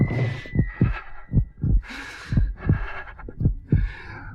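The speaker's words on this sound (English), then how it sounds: "For many minutes, the heart beat on, but at length it ceased." Steady heartbeat sound effect in a ghost story, slow paired thumps repeating at a regular rhythm, fairly loud and close, running alone without narration.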